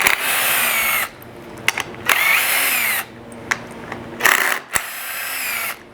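A power screwdriver whirs in several bursts as it backs screws out of a vinyl fence gate socket, long whines broken by short pauses and brief clicks, close and clear with no talking.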